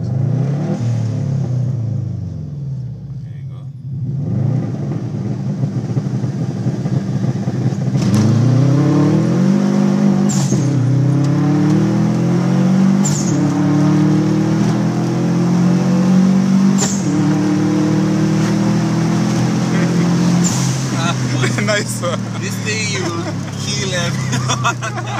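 A Subaru STI wagon with launch control at 15 psi boost revs hard and accelerates, engine note rising in repeated sweeps, loud and close, with voices talking over it throughout.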